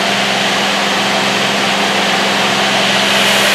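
A 2005 Mori Seiki NL 2500 CNC lathe spindle spins at 4,000 RPM, a loud, steady mechanical whir with a constant hum, close and uninterrupted.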